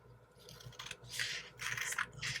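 Scissors snip through paper strips for a snake craft at children's circle time, giving three crisp rasping cuts in a row, close and fairly quiet, with no talk.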